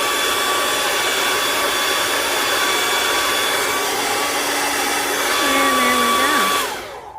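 A hair dryer on a low setting blows over wet paint, giving a loud, steady whooshing hum that holds for several seconds, rises slightly as it is moved, then cuts off at the end.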